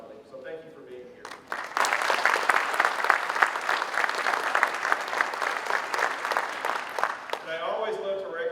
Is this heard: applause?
yes